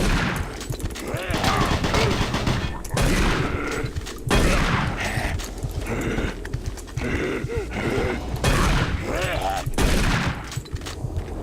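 Rapid automatic gunfire from a machine gun in a video game, in dense continuous bursts, busy and loud throughout with other game sounds mixed in and no clear break.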